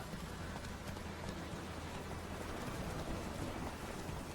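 Horse hooves clip-clop steadily in The Witcher 3, a continuous run of hoofbeats set against a dense, constant background wash.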